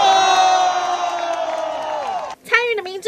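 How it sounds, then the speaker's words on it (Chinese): Crowd cheering in a street at the Donggang royal boat festival after a dozen men moved a car by hand, sustained loud shouting and whoops that break off, then a fresh burst of voices at the end. "现场欢呼声连连"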